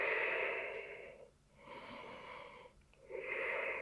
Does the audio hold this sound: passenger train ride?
no